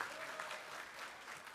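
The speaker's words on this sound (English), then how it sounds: "give your parents, teachers, all your family, everyone that helped you a big round of applause" Faint, steady applause from a crowd at a high school graduation ceremony, a continuous wash of many hands clapping heard from a distance.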